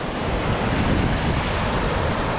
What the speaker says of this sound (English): when the beach has this angle, all the water's gonna do is come up, deposit shells, and pull them right away.